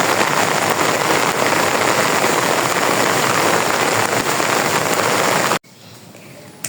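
Heavy rain pours steadily onto a flooded road, a dense continuous wash of sound with a faint engine hum underneath, then cuts abruptly to a much quieter background near the end.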